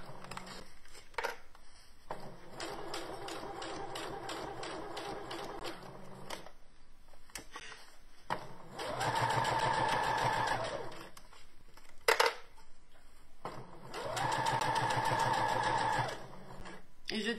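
A sewing machine stitches a fabric pouch in two steady, loud runs of motor whir, separated by quieter handling and pauses.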